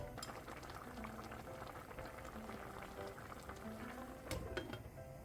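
Braised tofu with chili and green onion simmering in a covered pot over high heat, a faint steady bubbling and burbling throughout.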